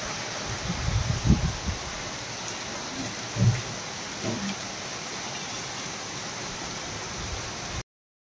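Heavy rain pours steadily while low rumbles of thunder roll in a few times, with a gusty wind mixed into the constant downpour.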